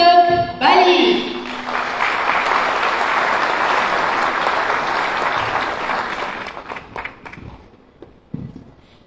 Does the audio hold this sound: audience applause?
yes